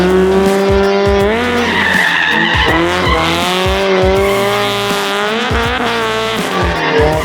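A Toyota AE86 drifts with its engine revving hard and continuously under long, loud, close tire squeals, and the engine pitch shifts as the car slides around, with no talking.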